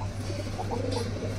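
Pigeons from Andhra coo softly in short, low murmurs over a constant low hum, with no voices heard.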